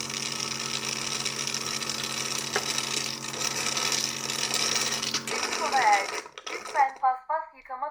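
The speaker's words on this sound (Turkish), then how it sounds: "Ardından kirli su otomatik olarak dışarıya pompalanır." A Dreame L40 Ultra robot vacuum station's pump hums and whirs steadily for several seconds pumping out dirty water, then shuts off, and a voice begins speaking.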